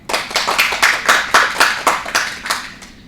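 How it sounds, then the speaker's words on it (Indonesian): A class of middle-school students claps in a quick, steady rhythm of about a dozen sharp claps, loud and close, with no talking over it. "Boleh beri tepuk tangan?"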